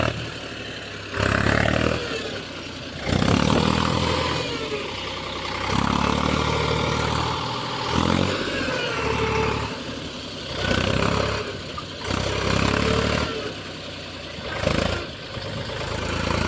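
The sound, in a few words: tractor engine running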